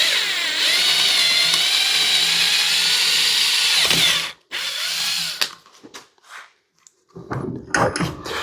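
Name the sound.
drilling a hole in wooden stock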